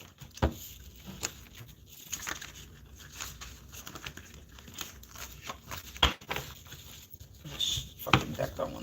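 A deck of tarot-style cards is shuffled by hand, producing irregular soft riffles, flicks and crinkly taps scattered across several seconds at close range, fairly quiet, with a few sharper snaps.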